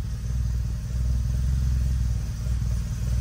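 A Honda K20 engine swapped into an Acura Integra runs with a loud, low, steady idle and rumbles near the mic, with no throttle cable attached.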